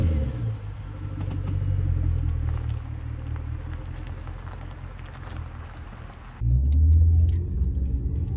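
A Jaguar XJ8 V8 engine rumbles steadily from inside the cabin, with road noise, then surges louder as it accelerates near the end.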